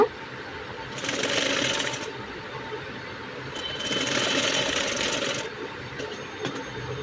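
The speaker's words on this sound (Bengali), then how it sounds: "ঠিক সেভাবে আরও একটি সেলাই এই হাতার মধ্যে দিয়ে দিচ্ছি।" A sewing machine stitches a sleeve on a small child's ruffle frock in two steady runs of about a second and a half each, separated by short quiet pauses, with no talking.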